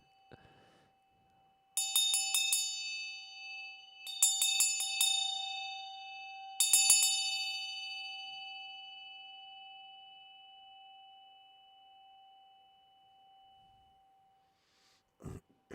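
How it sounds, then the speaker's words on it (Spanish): A meditation bell struck three times at even intervals, each clear metallic ring sustaining and slowly fading into silence at the close of a guided exercise. "Por aquí tenemos una campana para hacerlo más tradicional."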